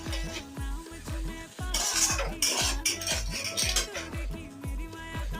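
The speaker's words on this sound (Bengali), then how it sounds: "এবার ভালো করে নাড়িয়ে নিচ্ছি" A metal spatula or spoon repeatedly scrapes and clinks against a pan while egg chowmein with tomato sauce and garlic is stirred, producing a steady rhythm of close, clattering strokes with no talking.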